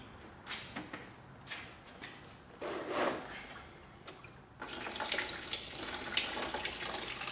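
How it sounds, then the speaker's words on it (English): Fluid runs out of a reopened car radiator drain, starting with a few knocks and short splashes, then settling into a steady, close rush of draining liquid. "I'm going to reopen the radiator drain."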